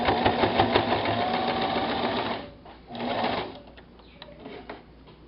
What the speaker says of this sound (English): and then sew all the way down.